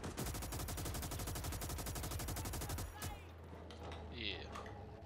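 Sustained rapid automatic machine gun fire in the World War II video game Gates of Hell: Ostfront, set in Libya in 1941, loud and continuous for about three seconds, then cutting to quieter battlefield ambience with distant shots.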